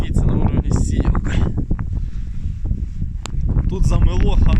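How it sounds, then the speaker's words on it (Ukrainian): Strong, roaring wind from a blizzard in the Dnipropetrovsk region, with deep snowdrifts piled around a yard; the gusts form a dense, steady rush close to the microphone, and someone speaks over it. "Вітер бешений дує."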